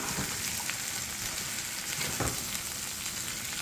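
String beans sauté in a hot pan for Baguio beans adobo, a dense continuous sizzle with a few louder crackles and stirring bursts, close and alone.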